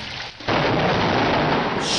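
Thunder from a lightning storm, a loud, sustained rumbling roar that starts abruptly after a brief quieter moment and keeps rolling close and heavy, with a little hiss mixed in.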